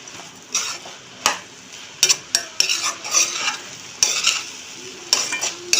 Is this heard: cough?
no